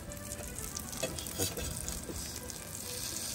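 Salmon and butter sizzle steadily on a Lion Premium grill with a close, even crackle and a few slightly louder pops along the way.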